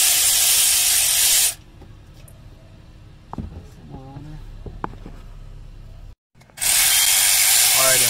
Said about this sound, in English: we are using an electric ratchet to go ahead and spin it off